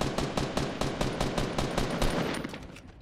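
Rapid automatic gunfire in the video game Fortnite, a fast evenly spaced burst of loud shots lasting about three seconds and fading slightly at the end, with no talk over it.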